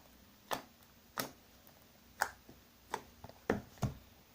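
Black-grey slime, bubbly and stretchy, gives off a series of about seven faint, sharp clicks and pops at irregular intervals in a quiet room.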